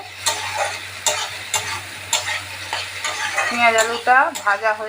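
Onion and potato fry in a pan for a Bengali banana-flower curry (mochar ghonto), with a steady sizzle broken by repeated spatula stirs and scrapes, close and fairly loud throughout.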